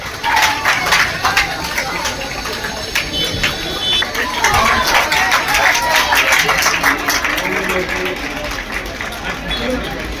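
Loud applause and clapping from a crowd of students honouring a top-percentile achiever, steady and sustained throughout with babble of voices mixed in.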